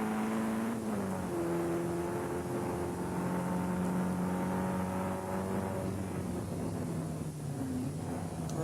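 Production saloon race cars at Brands Hatch drone in a pack up the long straight, engines held at a steady pitch from a distance, without any talk.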